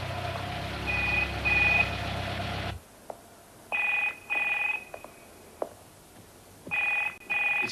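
A telephone rings in repeated short double bursts with pauses between them, fairly close, with a low engine rumble underneath at first that cuts out, leaving the rings over quiet background clicks and knocks.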